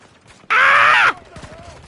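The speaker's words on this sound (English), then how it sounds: "They're shooting us!" Loud burst of automatic gunfire in the video game Battlefield 2042, a dense half-second volley that cuts off abruptly, followed by a fading tail and background game noise.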